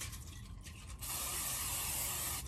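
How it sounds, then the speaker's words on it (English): A steady aerosol hiss of nonstick cooking spray coating the inside of a crock pot, a short burst first, then a longer continuous spray lasting over a second, close and fairly loud. "spray the inside of the crock pot with nonstick spray"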